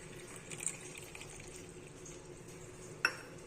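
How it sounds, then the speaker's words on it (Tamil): Water trickles softly into a cup of sugar, faint and close, with a small clink partway through and no talking. "இது கொஞ்சமாக தண்ணி சேர்த்து நம்ம கலந்துக்கலாம்."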